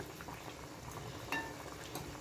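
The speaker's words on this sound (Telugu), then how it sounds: "చేపల పులుసు మంచిగా మరుగుతుంది కదండి" A pot of Bomme fish curry simmering steadily with a soft, continuous bubbling hiss, plus one brief clink of a utensil near the middle.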